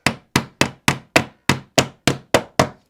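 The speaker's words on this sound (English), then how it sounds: "I just got to work my way along with the hammer. And you have to give it a good old bash actually." A glazing hammer bashes glazing packers into place on a new double-glazed window, making ten sharp, evenly spaced knocks in quick succession, close and alone.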